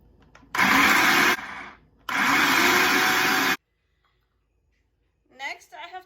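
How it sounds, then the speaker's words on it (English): A food processor roughly grinds vegetables for chicken Adana kebab in two loud, steady bursts, the first about 0.8 seconds and the second about 1.5 seconds, separated by a short pause, followed by silence and then brief speech. "So now I'm going to turn on my food processor and I'm going to grind these things very roughly"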